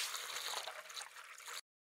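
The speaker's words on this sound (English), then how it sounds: "the water is poured into the reservoir, then flows through the diffuser" Water flows through the many tiny holes of a biosand filter's diffuser, giving a soft, bright trickling hiss that runs steadily and then stops abruptly.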